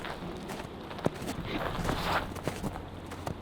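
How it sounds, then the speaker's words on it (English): Footsteps of someone walking outdoors, a few soft scattered steps in an uneven rhythm over a steady wash of wind noise. "Okay, that was definitely walking."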